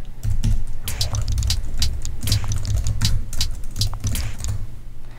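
Computer keyboard keys pressed in quick irregular taps, close and fairly loud, over a steady low hum, used to play notes as a MIDI controller in Ableton Live.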